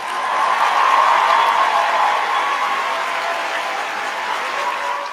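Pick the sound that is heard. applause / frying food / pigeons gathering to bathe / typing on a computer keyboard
applause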